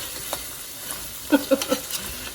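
Soup base sautéing in a pan gives a soft, low sizzle, with a few brief stirring scrapes clustered near the middle.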